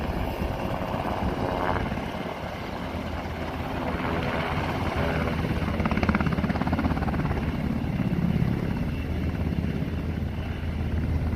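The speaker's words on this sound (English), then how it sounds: "This helicopter had to take water from a golf course in California." A firefighting helicopter hovers low over a California golf course to take on water, its rotor roaring loud and steady throughout with heavy wash noise.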